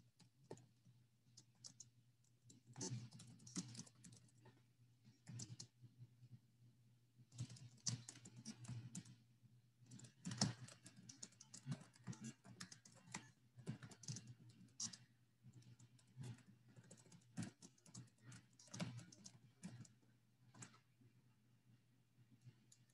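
Keys clatter on a computer keyboard in quiet, irregular bursts with short pauses between, close but soft, alone in a room without talking.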